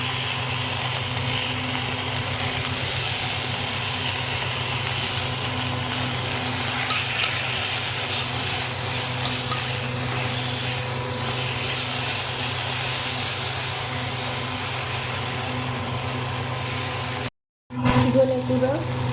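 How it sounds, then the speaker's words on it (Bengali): Steady sizzling hiss of panch phoron, chilli and tomato frying in hot oil in a kadai, continuous and close, broken by a brief dropout near the end. "কড়াইয়ে তেল নিয়ে নিয়েছি, এবার একে একে পাঁচফোড়ন, এক কিছু লঙ্কা, এর মধ্যে টমেটো কিনে দিয়ে দেবো।"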